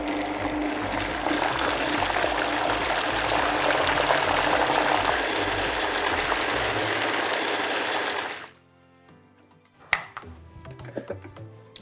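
A grinder runs loudly and steadily, blending Italian sausage with a dash of water into a sauce, then cuts out abruptly, leaving a few faint clatters and knocks nearby.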